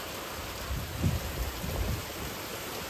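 Steady heavy, unseasonal night downpour hissing throughout, with low rumbling thunder rolling in the background, moderately loud and continuous.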